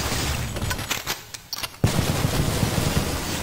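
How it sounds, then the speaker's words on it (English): Rapid automatic fire from a minigun in the retro shooter Cultic, a dense rattling burst that drops out briefly and then resumes loud and close, continuing steadily to the end. "Yo, that was a minigun. A machine gun."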